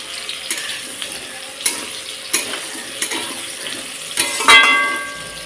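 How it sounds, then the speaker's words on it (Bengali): Pumpkin pieces, salted and browning in hot oil, fry with a steady close sizzle broken by periodic scraping clicks of stirring. "কুমড়োটাকে দেখো আমি সুন্দর লাল লাল করে একদম ভেজে নিয়েছি"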